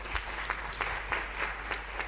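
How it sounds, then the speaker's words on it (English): An audience at an aerotropolis symposium applauding its panelists, a steady, moderately distant patter of many hands clapping together. "So let's give our panelists a round of applause."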